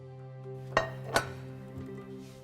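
Chopped ingredients dropped into a cooking pot, two sharp clinking knocks close together over a quiet humming background, followed by a faint softer tap.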